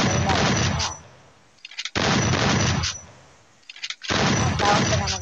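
Three loud bursts of rapid gunfire from the Free Fire video game, each lasting about a second, separated by short quiet gaps with faint clicks between them.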